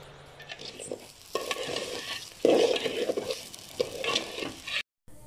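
Pulao cooking in a pan, a low frying sizzle with irregular stirring scrapes that swell to a louder burst midway, close and quiet, ending with a brief cutoff.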